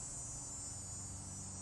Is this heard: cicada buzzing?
yes